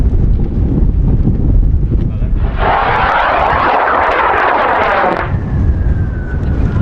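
A high-power rocket motor ignites with a loud, harsh broadband roar lasting about three seconds, then cuts off abruptly, leaving a thin fading whistle over outdoor wind under clear sky.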